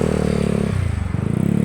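A small motorized tricycle engine revs nearby, its pitch rising and falling briefly with rattling mechanical clatter.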